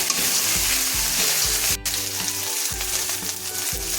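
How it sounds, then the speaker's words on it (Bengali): A paste of ginger, cumin and green chili fries and is stirred in a pan for a mushroom curry, giving a close, steady sizzle with rhythmic spoon scrapes and brief pauses. "এবার মশলাটাকে ভালো করে এভাবে মিশিয়ে কিছু সময়ের জন্য কষাতে হবে।"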